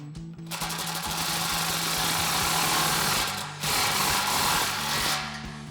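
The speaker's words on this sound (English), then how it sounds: "we'll grab our 15 mil socket on our impact, get our clamp in position and snug that down." An impact wrench with a 15 mm socket snugs down an exhaust clamp on a 2019-2024 Silverado/Sierra 1500 Borla S-Type dual exhaust, giving a close, continuous whirring hammer with a short pause before resuming.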